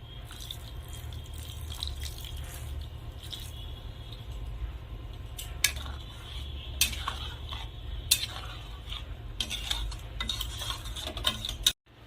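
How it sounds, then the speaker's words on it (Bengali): Water is poured into a pan of pond snail curry and stirred, with soft liquid sloshing, occasional spoon clinks against the pan and small drips, all quiet and close. "তাই এখন আমি অল্প করে একটু সাদা জল দিয়ে দিচ্ছি।"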